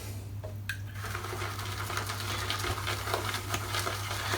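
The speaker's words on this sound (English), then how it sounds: "I'm going to mix that in now with the brush." A shaving brush whisks and lathers a slick mug soap, giving a steady close wet swishing and churning that runs without pause, with soft bubbly crackle and no talking.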